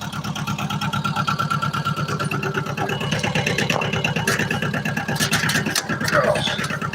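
A stuck tractor's engine runs steadily at a low, rumbling idle-like throb, loud and close throughout, with brief clatter and knocks near the end.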